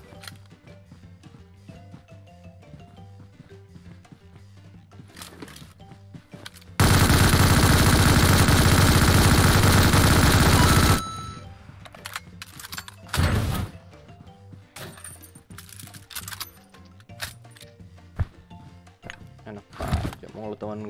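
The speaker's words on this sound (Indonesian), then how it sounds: "Oh, ada yang nembak dari sini." PUBG gunfire rings out in the video game: a loud sustained burst of rapid automatic fire lasting about four seconds, followed by scattered individual shots and impacts while players talk over game ambience.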